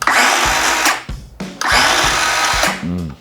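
Two loud runs of a DeWalt DCS373 cordless metal-cutting circular saw, whirring steadily with a lower, smooth tone and winding down between bursts, with a short clunk and rattle at the end.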